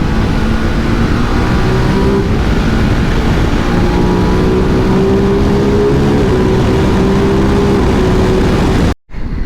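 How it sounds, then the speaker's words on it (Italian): A 2022 Ducati DesertX motorcycle rumbles loudly through a road tunnel, its engine note holding and then climbing steadily under echoing wind noise before a brief dropout at the end. "entriamo in galleria con la Desert X, vediamo un po' come gira,"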